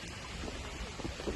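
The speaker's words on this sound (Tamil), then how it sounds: "மழை பெய்ய தொடங்கிடுச்சு." Rain falling steadily outdoors on Mainau Island, Germany, a dense continuous hiss with low rumbling underneath, no speech.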